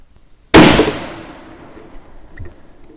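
A single loud, sharp report from a Swiss K31 rifle in 7.5x55, fired close by at a target, with a sudden crack and a decaying echo that trails off over a couple of seconds.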